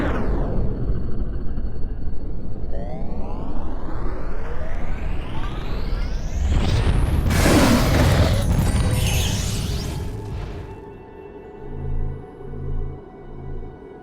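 Bombs explode in The Legend of Spyro: The Eternal Night on Wii, with a rising whoosh building into a loud, sustained rumbling blast, then fading into a few lower thumping booms near the end.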